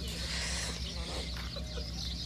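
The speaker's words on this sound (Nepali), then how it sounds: "आमामा यस्तो दामी छ लोकल कुखुराहरू" Local village chickens clucking outdoors, soft scattered calls over a steady low background hum and broad noise, no clear talking.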